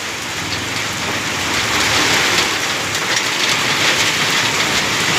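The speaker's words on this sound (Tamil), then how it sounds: "மழை எப்படி பெய்து கொண்டிருக்கிறது" Heavy summer rain pours steadily and loudly, with water running along a road; a dense, constant roar with no voices.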